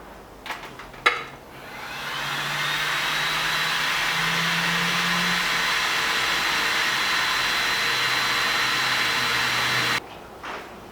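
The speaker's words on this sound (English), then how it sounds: "You can use a heat gun" A heat gun blows steadily to stiffen the outside wall of a shaped pottery piece, a loud continuous whirring rush that starts after a click, holds for about eight seconds, then cuts off.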